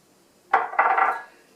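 A utensil clinks and scrapes against a bowl as shredded cabbage coleslaw is stirred with sugar, two quick bursts of clattering, close and distinct, with no voices.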